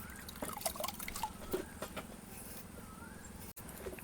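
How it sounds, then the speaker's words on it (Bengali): Tulsi leaves being washed by hand in water, soft close splashing and dripping trickles that go on steadily at low volume. "তুলসী পাতাও ভালো করে ধুয়ে নেব।"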